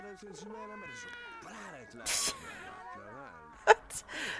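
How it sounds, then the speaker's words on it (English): Cats yowling and caterwauling in The Sims 1, a string of rising and falling wails with a sharp hiss-like burst midway, loud and close, with talk running alongside. "I don't know what those cats were doing, but it sounded violent."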